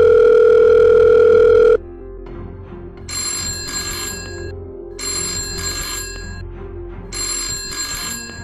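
A cartoon phone call starts with a loud steady dial tone, then a phone rings in three evenly spaced bursts against a quiet background.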